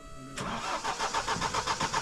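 A car's diesel engine cranks and catches on a freezing winter day in the mountains of Spiti, a brief start followed by a loud, rough, pulsing idle close by.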